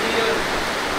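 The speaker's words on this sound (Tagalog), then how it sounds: "tapos biglang lumakas yung ulan kaya hindi pa kami makapag casting" Heavy rain comes down at a bay-side spot in Pagbilao, Quezon, a dense steady hiss of downpour filling the short stretch without any voices.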